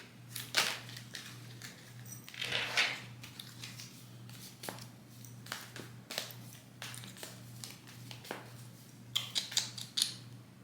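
Tarot cards being shuffled and mixed by hand, a quiet series of papery riffles, slaps and flicks in irregular bursts over a faint steady hum.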